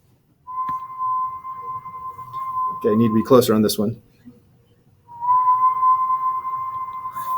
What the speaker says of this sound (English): Try low whistle.